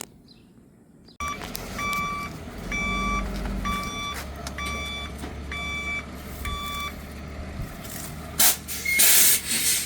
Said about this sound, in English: we're waiting for the tow truck to come